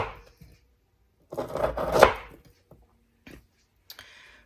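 A knife cuts through maple bacon on a board, a short burst of crunchy slicing rising to a firm chop, followed by a few faint taps and clicks, close and without voices.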